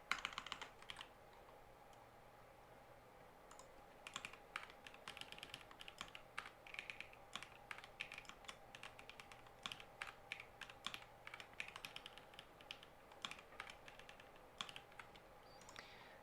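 Steady computer keyboard typing fills the stretch, rapid irregular key clicks continuing for a long run, fairly quiet and close, with no talking while code is written in Kotlin.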